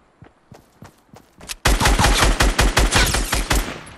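Video game battle gunfire: a few scattered shots, then a dense, loud burst of rapid automatic fire with bullets cracking close by, no talk.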